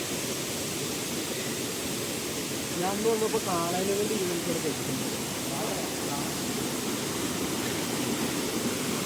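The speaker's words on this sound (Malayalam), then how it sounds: "ഇതാണ് വെള്ളച്ചാട്ടം." A forest waterfall at Vattavada in Idukki, ringed by woods and mist, gives off a steady broadband rushing roar, while someone talks briefly over the water noise.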